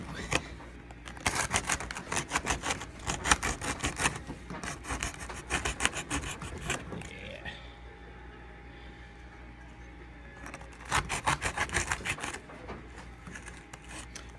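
A knife scrapes and cuts through hard plaster in close, rasping bursts of rapid strokes, pausing in the middle before another stretch of scraping.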